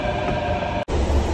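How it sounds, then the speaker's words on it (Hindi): A metro train at a station platform, a loud steady rumble with wheel and motor noise that drops out for a brief instant before resuming, close and continuous with no talking. "मेट्रो आ गई है गाइस, जल्दी जल्दी भागो, मेट्रो आ गई, पकड़ेंगे मेट्रो।"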